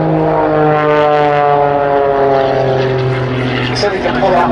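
Aerobatic display aircraft climbing vertically at the Duxford summer air show, a loud continuous propeller engine drone with steady harmonic tones throughout, while a commentator speaks over the public address.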